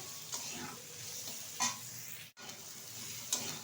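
Soybean and potato curry sautéing in a pan gives a soft, continuous sizzle with occasional scraping stirs and brief clinks, fairly faint and steady, with no talking.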